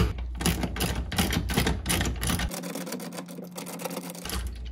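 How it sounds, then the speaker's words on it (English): A half-inch ratchet and socket tighten a hinge pin on a Mercruiser Alpha outdrive, giving rapid, close mechanical clicking in steady bursts that pause briefly midway, with no talk. "Once you got it hand tight, transition to your ratchet and socket,"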